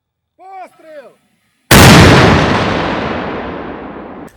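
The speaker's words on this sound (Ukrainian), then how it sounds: "Мінометники щойно відпрацювали по цілі" A brief shouted voice, then a single loud blast from a frontline combat mortar crew firing at a target, booming sharply and rolling away in a long fading rumble.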